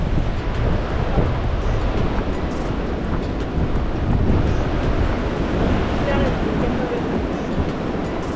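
Ocean waves wash steadily onto Seixal beach on Madeira, a continuous broadband rush of surf with wind buffeting the microphone and no clear breaks between swells.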